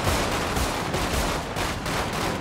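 Gunfire in the GTA 5 video game comes as a rapid, dense string of shots, loud and continuous for a couple of seconds with no talk over it.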